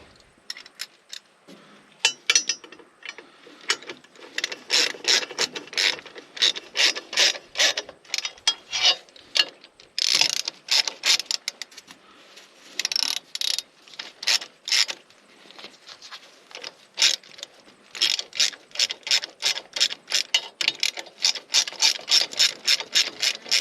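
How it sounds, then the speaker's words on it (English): A ratchet is worked by hand during repair of a Fordson Power Major crane. It gives bursts of rapid, crisp clicking, close and fairly loud, that stop and start many times. "where's that ratchet?"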